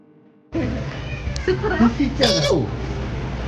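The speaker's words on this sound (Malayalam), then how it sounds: "ബേബിയുടെ മോളി പൂച്ചനെ കൊണ്ട് പിടിക്കണ് ഗൈസ്." A cat meows several times while being held indoors, the short calls close and fairly clear over steady background noise and voices.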